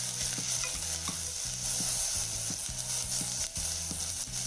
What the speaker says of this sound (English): Fry for a minute.